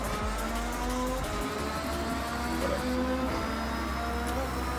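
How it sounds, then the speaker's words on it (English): Steady car engine drone in Forza Horizon 6, set in Japan, with a continuous low hum and faint rising whine, loud and unbroken throughout without talk. "I could fall asleep to the sound of this engine"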